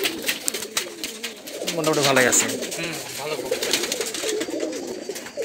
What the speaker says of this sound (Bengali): এটা তো বড় কবুতর, মোটামুটি ভালো রানিং কবুতর।